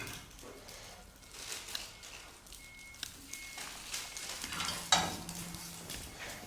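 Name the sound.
mutton liver frying and sizzling in a pan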